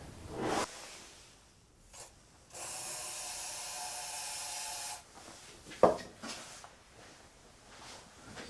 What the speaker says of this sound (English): looks like I have to get some start gas on that then.